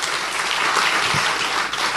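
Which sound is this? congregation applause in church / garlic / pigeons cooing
congregation applause in church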